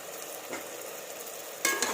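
Tomatoes sautéing in a pan for a home-made chana dum biryani, a steady soft sizzle with a light stir near the middle and a louder burst of frying toward the end.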